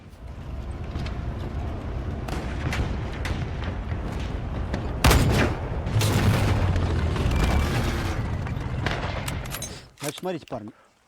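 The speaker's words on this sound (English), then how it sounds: "our ancestors are long dead, but PTRD is still firing" A Soviet WW2 PTRD 14.5mm anti-tank rifle fired at 20mm IFV armored steel, with a heavy booming report that rolls out over continuous outdoor rumble and background voices, followed by a few sharp closing knocks.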